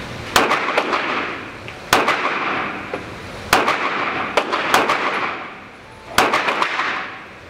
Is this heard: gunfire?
yes